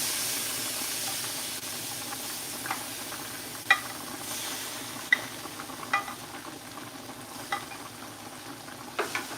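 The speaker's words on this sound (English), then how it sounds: "that beautiful sauce I was telling you about, I'm going to add that in this pan here." Alfredo sauce going into a hot pan, a soft continuous hiss and gentle sizzle with occasional clinks and scrapes of stirring, fairly quiet and with no talking.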